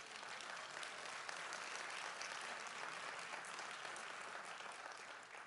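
Church congregation applauding, a dense, even roar of many hands clapping continuously at fairly constant loudness throughout, with no talking over it.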